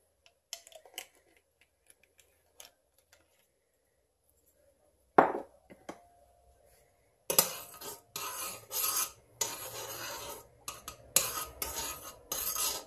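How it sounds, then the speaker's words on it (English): A metal spoon scrapes and rasps against the bottom of a pot while mixing a warming salve, repeated strokes in uneven bursts, close by after a quiet stretch with a few light clinks. "The sound of a spoon at the mixing in the bottom of the pot."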